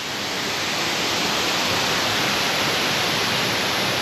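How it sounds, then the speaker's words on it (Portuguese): Cascata da Laja waterfall on a hike, heard close up as a loud, even, unbroken roar of falling water with no voices. "Então aqui, mais uma cascata, duas no dia de hoje"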